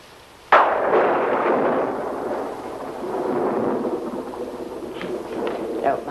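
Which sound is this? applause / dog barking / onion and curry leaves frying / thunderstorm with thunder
thunderstorm with thunder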